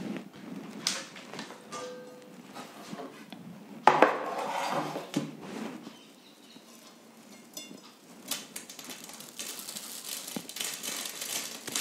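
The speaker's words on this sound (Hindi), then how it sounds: "आप टूटने की आवाज़ सुन ही सकते हैं कितना क्रिस्पी हुआ है" Crispy homemade besan sev (gram-flour bhujiya) snapped apart by hand in a kitchen: a run of close, dry crackling and brittle snaps, with a sharper break midway, fairly quiet and without any talking.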